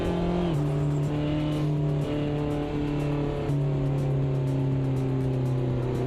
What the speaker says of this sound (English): Smoke the tyres, one more.